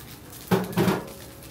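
Egg and rice for fried rice are stirred in a pan, giving two quick metallic scrapes and clinks of utensil on pan, close and fairly soft against a quiet background.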